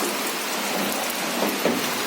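Heavy rain pours down steadily on a house with a rooftop stairway and an open kitchen area, a dense continuous hiss holding at an even loudness for the whole stretch with no voices.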